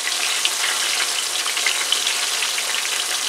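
Flounder pieces frying in a pan make a steady, loud sizzle with small pops and crackles throughout.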